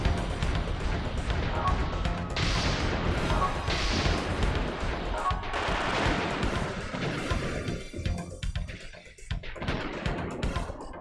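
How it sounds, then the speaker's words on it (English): Repeated loud crashes and booms from explosions in the video game Xenosaga Episode II, crackling bursts following one another with brief quieter gaps, with some voice underneath. "Yep, there's a lot of explosions going on there."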